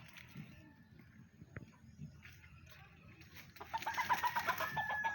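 Chickens cluck in a yard, brief low calls scattered through the first seconds, with busier, louder fowl calls building near the end amid faint background noise.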